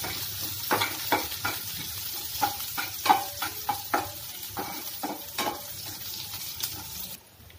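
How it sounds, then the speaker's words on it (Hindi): Chopped onion and curry leaves frying in a pan for suji dosa, a steady close sizzle broken by repeated stirring scrapes and clinks at an uneven rhythm. "कटा हुआ प्याज, कड़ी पत्ता हल्का सा भून लेंगे इसको।"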